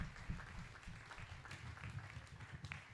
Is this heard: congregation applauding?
yes